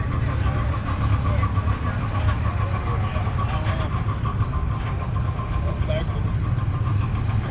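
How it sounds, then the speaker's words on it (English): A steady, rumbling diesel engine idles close by, a constant low drone with a faint tonal hum running the whole time. "This one's got a diesel engine in it for power."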